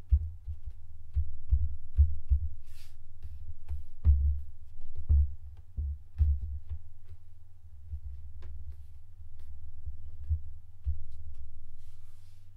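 Footfall impact noise from a room floor, picked up by a HyperX Solocast microphone: a series of dull, deep low thumps at an irregular walking pace over a steady low hum, with no voices.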